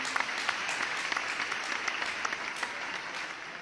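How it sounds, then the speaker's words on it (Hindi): An audience at a Hindi poetry recital breaks into brisk applause mid-line, a fairly quiet, even wash of many hands clapping with no voices. "पंक्ति पूरी नहीं होने दी और ताली बज गई"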